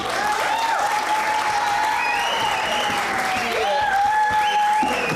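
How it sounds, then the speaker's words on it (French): Loud, continuous applause from a theatre audience for improv players at an improv night show, steady throughout with a few voices rising above it. "j'aimerais ça que tu donnes une bonne main d'applaudissement à tes joueurs"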